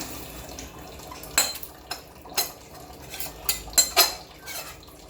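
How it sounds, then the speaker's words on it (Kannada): Roasted ingredients for a homemade diabetic powder are tipped from a pan onto a winnowing tray to cool, giving a handful of close, sharp scraping taps and rattling pours spaced irregularly over quiet background. "ಇದನ್ನು ಈಗ ನಾನು ಇದೇ ಮೊರಕ್ಕೆ ಹಾಕ್ತಾ ಇದ್ದೀನಿ ತಣ್ಣಗಾಗಕ್ಕೆ"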